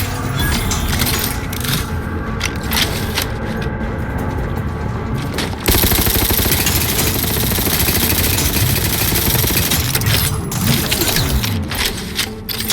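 Loud, rapid gunfire in the video game Outer Worlds 2, with cracking shots and booming impacts layered into a dense, continuous barrage that intensifies partway through.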